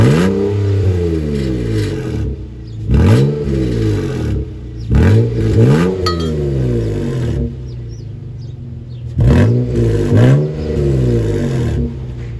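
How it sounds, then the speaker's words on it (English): A Volvo XC90 luxury SUV running with its muffler gone roars through four loud, close revs, each rising and falling back to a rough, throaty idle between them; no talking. "when I give it a little bit of gas, I'll show you what that sounds like"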